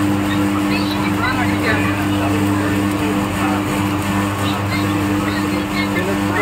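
A paddy puffing machine in Chhattisgarh running steadily while making popped rice, a loud continuous mechanical hum with a strong low tone and a hiss on top, with people talking close by over it.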